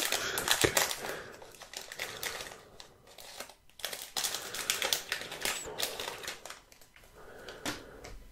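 Baseball card packs being opened close up: dense crinkling and tearing of foil wrappers in irregular bursts, crisp and near, with cards shuffling and no clear speech.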